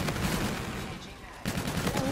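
Rapid gunfire from the video game Call of Duty Infinite Warfare, with a dense rattling burst of shots, a short lull, then more firing, loud and continuous throughout.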